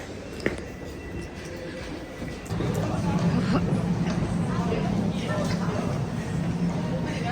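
Train at a railway station, a low rumbling of carriages that swells and holds after a couple of seconds, under a babble of crowd chatter and nearby voices.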